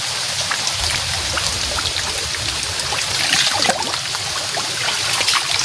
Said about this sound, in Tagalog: Guys ang lakas ng ulan.